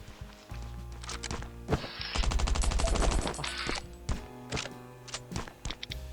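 Gunfire in the survival game Last Island of Survival, with scattered single shots and thuds, then a dense rapid burst of automatic fire in the middle, followed by more sporadic shots over a steady background hum.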